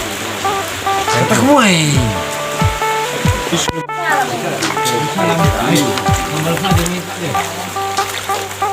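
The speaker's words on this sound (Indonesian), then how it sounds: "Suasana saat ini hujan ya guys." Steady rain falls at an outdoor hunting spot where people shelter and cook, a continuous broadband wash heard under loud nearby talk throughout.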